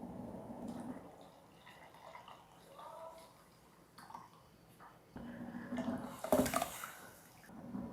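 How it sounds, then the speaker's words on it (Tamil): Lentil cooking water is poured into a pot of boiling Tamil rasam. Quiet kitchen bubbling and faint movement come first, then a louder splashing pour in the second half that fades out at the end. "இந்த பருப்பு ஜலத்தை இதில் விட்டுடலாம்."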